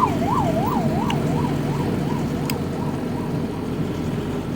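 Ambulance siren wailing in a regular rising-and-falling pattern, clear and continuous over steady road traffic noise, with no talking.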